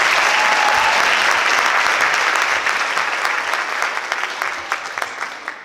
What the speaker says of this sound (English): Let's give her and her husband another round of applause.